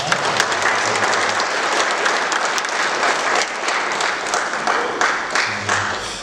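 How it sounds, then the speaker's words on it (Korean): Sustained applause from a sizable church congregation fills the space, a continuous wash of clapping at a steady, fairly loud level. "박수로 환영해 주시기 바랍니다"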